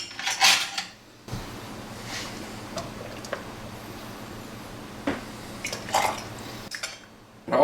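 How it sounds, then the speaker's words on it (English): Hot plum jelly being ladled into hot canning jars, with clinks of metal against glass and soft pouring between sharp taps, close and fairly quiet with no voices. "we're going to get this hot jelly in these hot jars quickly"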